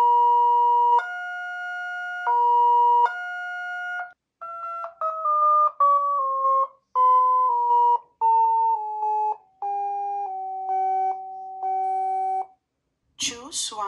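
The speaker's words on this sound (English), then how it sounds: "The application uses sounds to translate colors." Clean electronic tones from astronomy software for visually impaired users, which turns colours into sound, play as a sequence of steady beeps that step up and down in pitch, then end in a short burst of noise.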